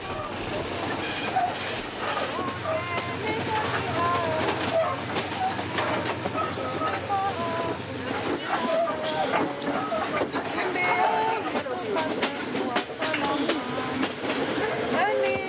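A train in Congo rolls along the rails, heard from inside the crowded driver's cabin, with steady rumbling, clattering wheels and occasional squeals, people talking over the noise throughout.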